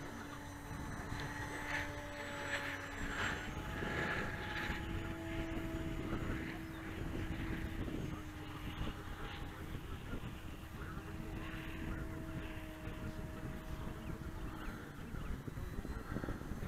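Parkzone Sukhoi SU-29 radio-controlled model airplane flying outdoors, its small electric motor droning steadily at moderate distance with shifting pitch as it turns, fairly faint throughout.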